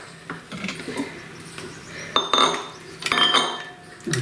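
Mashed dal for a mango dal recipe being scooped into another vessel, with metal spoon clinks, scrapes and dull knocks against steel pots in irregular bursts, close and moderately loud.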